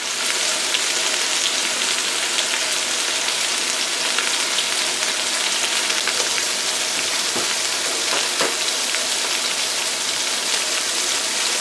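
Lobster and crab shells roast in a pot with a constant crackling sizzle, like light rain, holding steady throughout with a few sharper pops and no talking.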